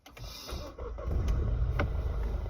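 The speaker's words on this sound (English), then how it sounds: "I'll put my engine on" A car engine starting up, a short crank followed by a steady idle rumble that holds close and fairly loud, with a few faint clicks from inside the car.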